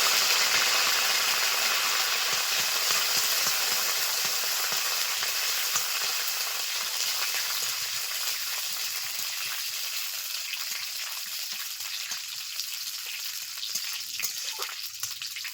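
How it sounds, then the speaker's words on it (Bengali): Mustard seeds and curry leaves sizzle and crackle in hot oil, a steady close hiss with fine popping that slowly eases over about fifteen seconds, with no talking. "দিয়ে দিলাম সরিষা। দিয়ে দিচ্ছি কারি পাতা।"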